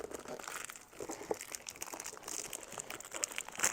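A cardboard box package being opened by hand, with steady close crinkling and crumpling of packing material and scattered sharp crunches across the whole stretch, loud and continuous with no talking.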